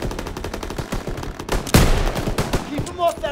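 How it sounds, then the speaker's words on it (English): Machine gun fire in a war video game rattles in fast, steady bursts, loud and close, broken by a heavier boom midway, with shouting voices mixed in. "MGs, open fire!"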